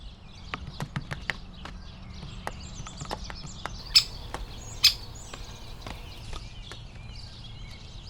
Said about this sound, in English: On his blacksmith's branch, he's hacked an anvil hole, with his beak as a hammer to crack the shells.